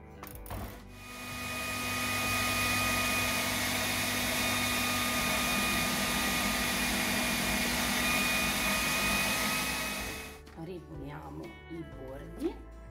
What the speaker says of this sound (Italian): Adesso andiamo a frullare, poi vediamo se c'è bisogno di aggiungere del pangrattato, farina di ceci